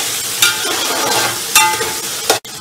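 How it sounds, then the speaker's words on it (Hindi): Whole cinnamon, black cardamom and cloves roast in hot oil for a vegetable pulao, a steady close sizzle punctuated by three sharp stirring scrapes, brief and without speech. "ये हम अपना दालचीनी, बड़ी इलायची और लौंग जो है वो भी डाल देंगे और इसको अच्छा सा भून लेना है हमने।"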